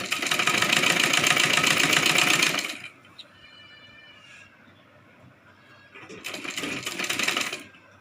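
A sewing machine stitches a Rajputi kanchali blouse with a fast, loud, even whirring run of about three seconds. Quieter handling follows, then a second shorter burst of stitching.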